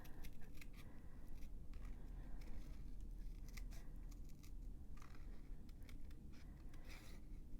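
Scissors snip and crunch steadily through paper in close, continuous fussy cutting of small card-making shapes, with a dense run of crisp strokes and no talk.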